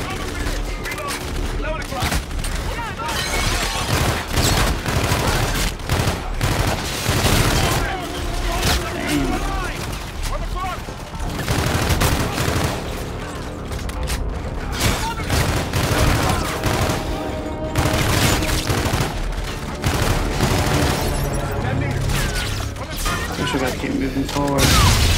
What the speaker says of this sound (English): What the hell's shooting at me?